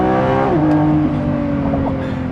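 Lamborghini Revuelto V12 under way, a loud, close engine note with strong harmonics that drops in pitch as it shifts, then holds a steady hard-edged drone.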